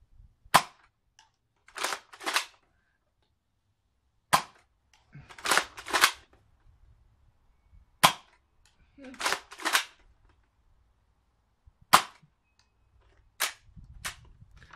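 Nerf Mega Thunderhawk toy blaster firing, six sharp snapping shots spaced a couple of seconds apart, each loud and close, with brief bursts of handling clatter between them.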